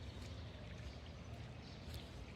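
Rainwater runs down from higher ground after a morning of heavy rain, a faint, steady low rushing flow with no talking.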